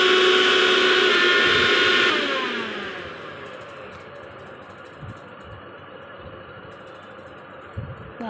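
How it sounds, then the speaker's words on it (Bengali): A repaired kitchen mixer grinder whirs loudly and close for about two seconds, then winds down and falls quiet, leaving faint background noise and a few light knocks. "বাবা মিক্সার ঠিক হলো, কাল থেকে আমার আবার চলবে।"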